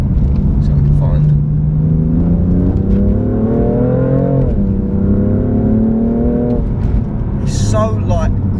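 A stock BMW M4 Competition with a 444 bhp engine pulls hard on a road, its note rising steadily with a gear change midway and a grunty, loud exhaust over continuous cabin noise while someone talks over it.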